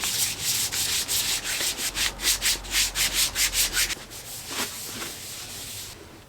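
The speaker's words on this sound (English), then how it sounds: "Let's sand this" Sandpaper rubs back and forth over a custom-painted helmet in quick, even rhythmic strokes, close and distinct, before easing into lighter, softer scuffing.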